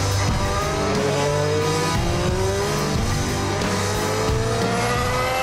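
A Formula One car with a V6 turbo engine accelerates hard, its rising engine pitch sweeping up repeatedly through gear changes, loud and continuous with no pauses.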